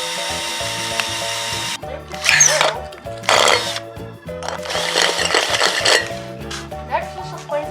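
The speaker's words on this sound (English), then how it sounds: "Next, we have to drill the center of the can." A drill bores into the center of an old metal can in short loud bursts with pauses between them, its whine and grinding set over quiet background music.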